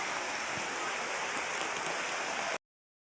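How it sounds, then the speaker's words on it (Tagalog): Heavy typhoon rain pours down steadily in a dense, continuous hiss, loud and close, then cuts off abruptly. "Yan, malakas ang ulan."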